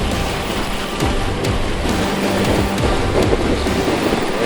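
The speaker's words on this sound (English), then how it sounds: "Just a small rapid," Steady broadband rushing of water from a small Grand Canyon river rapid, continuous and fairly loud, close by, with no voices.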